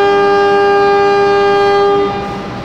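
A freight parcel train passes the Singasari train at Purwokerto station, sounding a long, steady, loud horn that holds for about two seconds before fading, with no talk.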